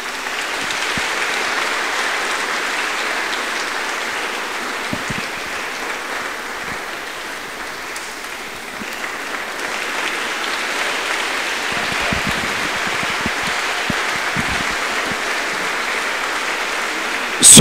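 An audience in a cathedral applauds a singer before a concert, sustained dense clapping that dips slightly midway and then swells again.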